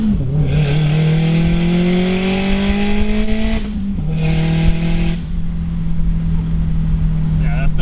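A turbocharged Audi A4 drift car with an external 38 mm wastegate runs loud and close, its engine note climbing through revs, dropping, then climbing again before settling into a steady hum.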